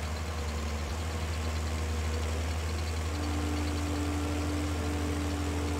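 Tractor running steadily with a Forigo mower in Farming Simulator 22, a continuous low engine drone with a faint tonal whine rising partway through.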